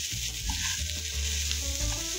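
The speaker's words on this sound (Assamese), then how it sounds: "এয়া চাওক ধুনীয়াকৈ গাৰ্লিক আৰু অনিয়নখিনি ফ্ৰাই হৈ গৈছে" Garlic and onion frying with potatoes in a pan, a steady close sizzle with stirring and scraping throughout, loud and continuous with no speech.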